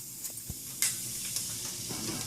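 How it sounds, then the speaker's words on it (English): Whole spices, cumin seeds, cardamom, a cinnamon stick and bay leaves, sizzling in hot oil for a green chicken curry, a steady close frying hiss with a few sharp crackles and pops and no talking. "Now I am going to add the temperings. The cumin along with the cardamom and the cinnamon stick, the bay leaves,"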